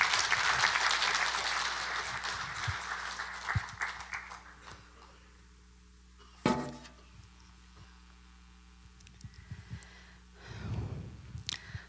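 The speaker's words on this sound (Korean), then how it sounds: "한번 박수로 환영해 주시면 감사합니다." A church congregation at a revival meeting applauds to welcome a woman up to give her testimony; the clapping is loud and dense for the first few seconds, then thins out into scattered sounds and quiet room tone.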